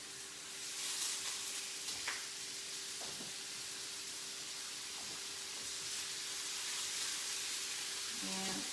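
Sliders frying in a little oil in a pan during a cooking class demo, a steady hiss of sizzling fat with a few soft knocks and clinks, fairly faint and continuous throughout.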